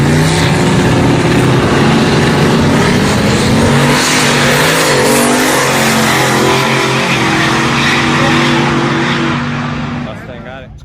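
Loud Mustang drag racing car accelerating hard down the strip at a night drag event, a sustained roaring engine note that holds steady for about ten seconds before fading, with crowd noise and voices mixed in.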